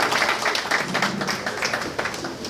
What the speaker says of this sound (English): A round of applause for her too.